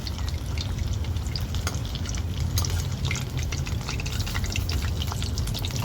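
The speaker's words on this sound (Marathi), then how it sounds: "तर आता पकोड्यांना मी पलटी करून घेते" Pumpkin flower pakoras fry in hot oil as a dense, loud, even bubbling hiss, with faint clicks as the fritters are turned.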